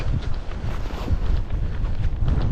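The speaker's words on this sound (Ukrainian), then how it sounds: "Вітер просто, ви розумієте, який тут нереально" Strong wind buffets a microphone outdoors on a fishing outing, a steady loud low rumble and roar that continues without break through the whole clip, with no talking.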